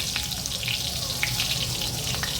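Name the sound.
green chili and crushed garlic frying in hot oil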